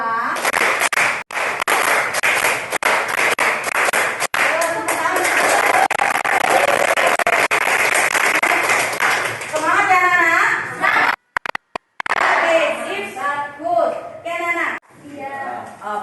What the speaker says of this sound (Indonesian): Jika Bapak katakan 4, kalian berarti tepuk 4 kali.